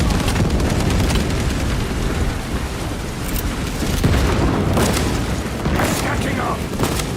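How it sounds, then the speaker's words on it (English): A frag grenade goes off amid the chaos of a Warhammer 40K Space Marine 2 battle against Tyranid Xenos, its dull boom rising over continuous loud gunfire and combat noise while voices call out. "Releasing frag grenade!"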